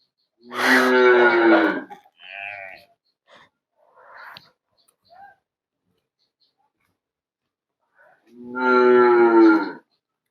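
Two long, loud cow moos bracket a quiet stretch with faint breathing and small sounds in between, close to the listener.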